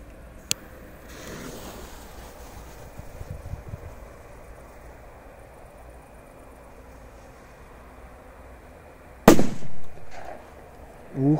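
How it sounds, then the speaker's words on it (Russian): At night outdoors, a P-150 firecracker goes off after a long, quiet wait as one sudden, very loud, sharp bang. A few rumbling echoes and thuds trail after it. "Ух, мощно, ребята, рвануло, аж оглушило."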